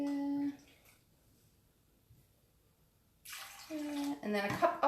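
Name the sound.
pouring water and apple cider vinegar into a measuring cup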